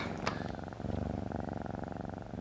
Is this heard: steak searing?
no